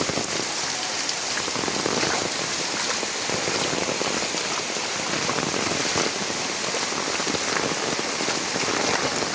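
Heavy rain pours down steadily during flooding in the Attakiri area of Jaffna, a dense, loud, unbroken hiss of drops striking surfaces throughout, with no voices.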